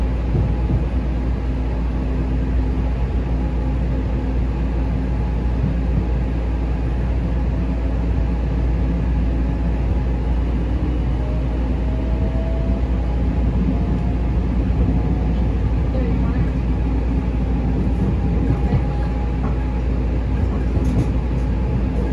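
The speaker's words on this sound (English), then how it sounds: "that's why this train's going so slow." Steady, loud rumble of a Long Island Rail Road commuter train rolling slowly between Syosset and Hicksville, a continuous low roar with faint squeals from the wheels.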